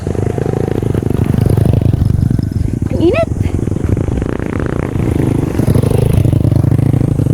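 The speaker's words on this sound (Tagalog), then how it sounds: "Yung ibang motor pala dito habal-habal." A habal-habal motorcycle taxi rumbles past on a hot road near Masasa Beach in Tingloy, Batangas, its engine drone steady and close under continuous outdoor noise while people talk.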